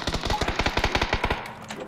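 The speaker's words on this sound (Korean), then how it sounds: "북쪽에 차, 아니 총소리 많이 나네요" Rapid automatic gunfire from a Korean battle-royale style video game, a steady burst of about fifteen close, loud shots in quick even rhythm, with no talk over it.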